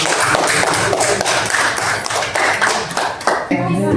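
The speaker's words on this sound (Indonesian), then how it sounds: "Oke, tepuk tangan dong." An audience at a coding and AI class session claps in a loud, busy burst lasting a few seconds, with voices mixed in and a speaker starting up near the end.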